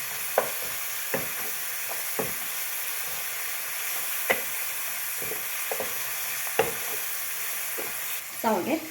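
Vermicelli upma with fresh coriander sizzles steadily in a frying pan while a spoon stirs it, giving occasional soft scrapes and taps over the constant frying hiss.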